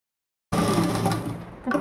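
Sewing machine stitching the lower seam of a katori blouse, a steady close whirring run of the motor lasting over a second after silence, easing slightly before a brief louder burst at the end.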